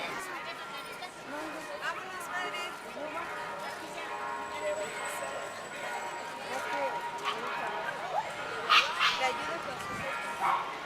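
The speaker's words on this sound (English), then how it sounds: "there are a few dogs here and there, quite a few dogs actually, maybe there's 100 dogs or so" Dogs of many breeds, around a hundred, bark and yip at an outdoor blessing of the animals, with scattered barks near and far throughout, under steady conversation from people nearby.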